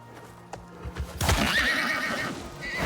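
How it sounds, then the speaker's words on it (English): A horse neighs loudly in the survival video game Icarus on an island, a sharp rising whinny after a few soft hoof clops, then a trailing snort and rustle. "so there's a murder horse"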